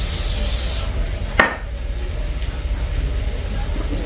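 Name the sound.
spraying oil on zucchini fries for the air fryer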